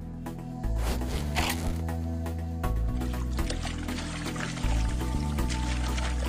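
A fishing pole is beaten against the water surface during fishing in Jinggu, China. Several loud, close, sharp splashing slaps land one after another over a continuous wet churning, with no talking.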